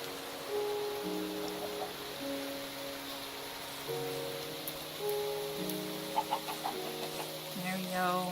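Soft, scattered clucks of a small chicken in a farming video game, faint and brief, set against a gentle melodic game soundtrack with light rain-like patter.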